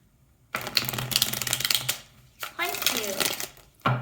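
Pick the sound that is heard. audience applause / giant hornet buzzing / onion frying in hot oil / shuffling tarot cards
shuffling tarot cards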